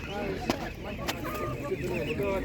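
Poultry at a market clucks and squawks in short bursts around Muscovy ducks for sale, with a few sharp calls standing out, and people talk over the birds nearby.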